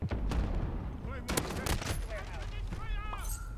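Gunfire from a 725 shotgun in a video game: several sharp, loud blasts cut through a continuous rumbling battle background, with a voice talking over parts of it.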